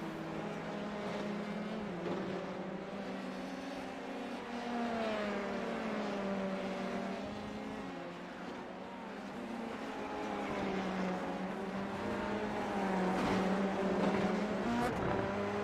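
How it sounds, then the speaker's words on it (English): Formula 3 race cars at Road America in a video game, engines droning steadily at mid distance with shifting pitch as cars accelerate and pass, a continuous layered whine over the whole stretch. "These are some noisy cars out here at Road America with how low they are and how aggressive the curbing is"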